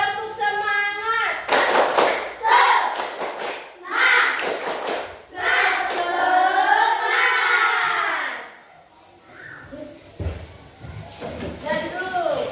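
Primary schoolchildren in an Indonesian classroom perform the tepuk semangat clapping chant, with bursts of rhythmic hand claps mixed with loud chanting young voices, ending in a quieter stretch with a few voices.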